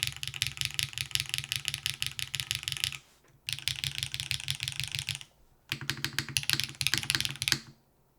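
Rapid mechanical key clatter from an Onibi keyboard in a top-mount setup, close and loud, in three dense bursts of typing separated by brief pauses.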